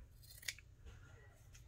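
Scissors make one quick crisp snip while cutting lace during a sewing craft project, faint and isolated against a quiet room.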